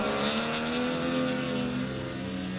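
A 3-litre Toyota 86 rally car revs hard on a gravel rally stage in South Canterbury, its engine a loud, sustained, throaty drone with a rising pitch, heard alone without talk.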